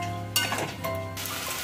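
Spice paste for an egg and potato curry hits hot oil in a pan with a sudden loud sizzle, then fries on with crackling and a few utensil clinks against the pan.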